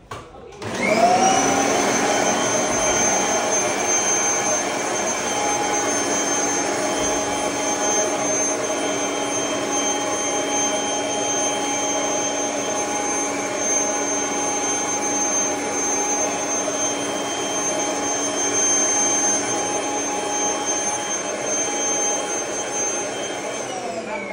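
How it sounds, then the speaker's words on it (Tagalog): A Kirby heavy-duty vacuum cleaner runs close and loud, a steady high whine with strong tonal hum that holds unchanged from start-up to the end. "May mga normal vacuum sir na makikipaglaban ka pa sa suction power niya."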